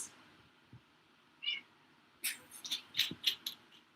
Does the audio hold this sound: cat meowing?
yes